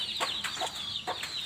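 Chickens cluck in short, repeated bursts around a motor pool yard, fairly close and clear over a faint steady background.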